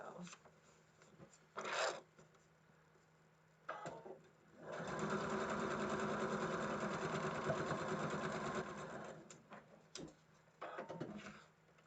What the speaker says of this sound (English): I already trimmed it, so I can just stitch it right as we go.